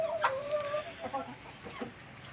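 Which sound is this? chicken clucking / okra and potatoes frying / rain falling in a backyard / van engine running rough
chicken clucking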